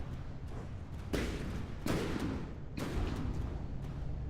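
A cram cannon on a paddleship fires in a video game, three heavy booming shots a second or so apart over a constant rumbling battle background, moderately distant.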